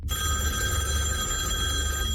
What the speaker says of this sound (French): Le téléphone sonne à 10h du matin, Jeanne Cachy entend tout ça